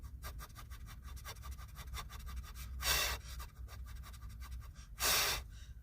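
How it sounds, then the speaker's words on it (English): Someone does a rapid breathing exercise during a meditation, with quick, rhythmic exhales pulsing steadily and close. Two longer, louder breaths break the even pattern. "Breathing in, and then rapid breathing, rapid exhales"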